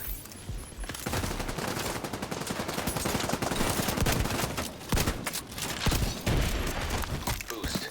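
Rapid gunfire from a shotgun in a PvP fight in the video game The Division 2. Dense, loud, repeated shots run almost the whole time after a brief quieter opening, with heavy cracks and rattling bursts.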